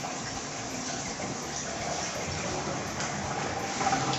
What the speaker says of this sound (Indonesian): Itu ngalir dari sini ke situ, airnya dibuang.